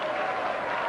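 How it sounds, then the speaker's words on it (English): Steady applause from a darts crowd at the 1992 World Championship final, rewarding a 12-dart finish; a dense, even wash of clapping with faint murmuring mixed in. "They're applauding a 12-dart finish there from Mike Gregory"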